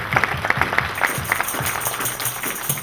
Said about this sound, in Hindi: हम चाहते हैं आप लोग जोर से ताली बजाकर